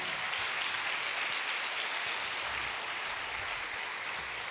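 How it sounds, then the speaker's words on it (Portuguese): A church conference audience gives dense, continuous applause for Jesus, a broad, steady wash of clapping from a large crowd that holds level throughout. "Dê para Jesus uma forte salva de palmas."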